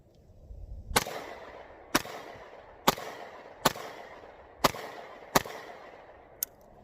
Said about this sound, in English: let's go throw some more rounds down range